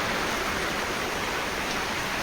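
Steady rain pours down on and around a poultry shed, a dense, even hiss with no breaks and no voices.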